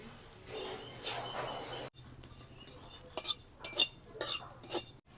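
Whole cumin seeds are roasted in a pan, with a spoon scraping and clinking against the metal in irregular bursts, close up and without talk.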